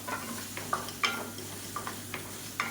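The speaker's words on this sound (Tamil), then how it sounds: "குடமிளகா வந்து மீடியம் சைஸாக ஒரு குடமிளகா நறுக்கி வச்சுருக்கேன் இந்த மாதிரி நீளமாக அதையும் சேர்த்து நல்லா வதக்கி விட்டுக்கலாம்" Sliced capsicum being stirred and sautéed with masala in a pan, with quiet sizzling and several soft scrapes and clicks of the spoon at irregular intervals.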